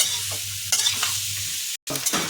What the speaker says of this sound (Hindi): 5 मिनट तक इसको फ्राई करना है